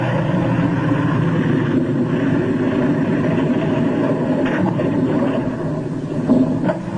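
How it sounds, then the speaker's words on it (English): A ski-equipped aircraft lands on ice in Antarctica on a single engine, with its starboard propeller dead. The steady propeller drone is loud and continuous, with faint scraping and thumps near the end. "The one-engine landing is tricky at best"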